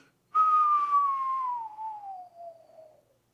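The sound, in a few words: voice imitating a slide whistle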